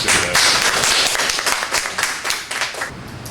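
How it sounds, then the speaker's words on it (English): Attendees at an open source hardware session of the COSCUP 2025 conference clap for a speaker. Individual claps stand out close and loud, then the applause gradually thins and fades. "let's give a big applause"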